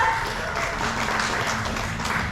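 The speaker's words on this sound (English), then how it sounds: "can we give a big round of applause to our island locals, Miss Ann and Miss Melinda?" A round of applause for island locals Miss Ann and Miss Melinda during a Junkanoo headdress craft activity at Disney's Lookout Cay, an even patter of clapping from a small group throughout.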